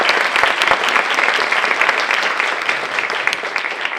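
An audience at a school district spelling bee gives sustained, loud applause, a dense wash of clapping with a few sharper individual claps standing out.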